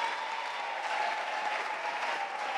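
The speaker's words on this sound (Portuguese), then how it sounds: "Mais fortes as palmas pro Padre Alex." Audience applauds a priest at a music program in a samba venue, a steady, even wash of many hands clapping with no breaks, moderately loud and without speech.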